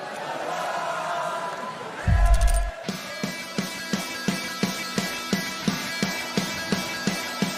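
A home crowd at the 2024 CrossFit Europe Semifinal women's final event gives a short loud roar of cheering, then drums pound a steady, evenly spaced beat over the continuing crowd din.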